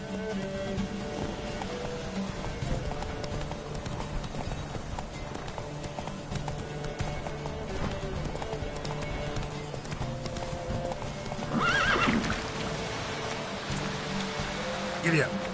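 Horse hooves clip-clop at a steady run in The Witcher 3: Wild Hunt on PlayStation 4 Pro, with music and rain-like hiss underneath and a brief louder burst near the end that may be a neigh.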